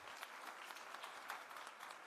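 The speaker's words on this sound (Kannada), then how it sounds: "ಜೋರಾದ ಚಪ್ಪಾಳೆ ಬರಲಿ ಕೊನೆಯದಾಗಿ ಅಂತ ಕೇಳ್ಕೊತೀನಿ." Steady, dense applause from an audience at a felicitation program honouring successful KAS civil service candidates, a continuous wash of many hands clapping fairly far off, with no talking over it.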